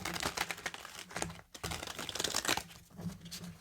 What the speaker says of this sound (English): So side shuffling is beautiful.